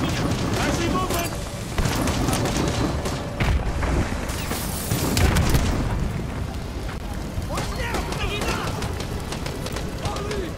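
Explosions, booms and gunfire thud and crackle in a Call of Duty Modern Warfare 2 campaign battle with an armored BTR and smoke grenades, a dense, loud barrage under shouted voices.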